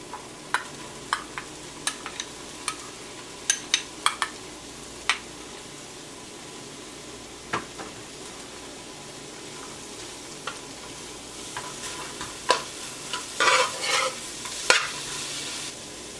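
Curry paste with garlic and onion sizzles and fries steadily in a pan while a utensil repeatedly scrapes and clinks against it, with a burst of louder stirring near the end.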